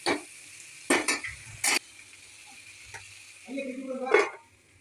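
Tomatoes are sautéed in a pan for egg gravy, with a few scraping stirs and clinks of a spoon against the pan over a faint sizzle, close by, with a brief stretch of voice near the end.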